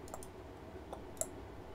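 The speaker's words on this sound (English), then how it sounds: "so I just keep clicking" Faint, sparse mouse or keyboard clicks during an online tabletop role-playing session, a few isolated ticks with one sharper click standing out against a quiet room hum.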